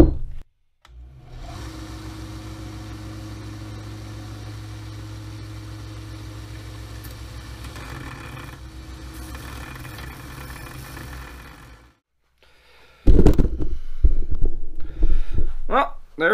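Coarse 60-grit sandpaper on a grinder wears down an old hatchet head, making a steady droning hum for about eleven seconds before stopping, followed by someone talking.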